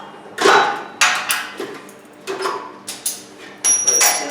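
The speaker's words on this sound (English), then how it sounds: "Take off the 4 pairs of vice grips." Vice grips come off a homemade waste oil heater in a few sharp metallic clicks and clunks, spaced irregularly, close by with no talking.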